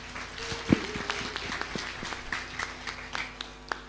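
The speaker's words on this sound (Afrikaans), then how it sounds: "Kom ons gee hom 'n lekker hande klap." A church congregation claps in a birthday round after a Sunday service, with uneven, fairly loose hand claps and a few sharper claps, plus faint murmuring in the room.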